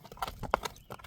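A horse galloping, its hooves landing in a quick uneven run of close, distinct thuds over about a second.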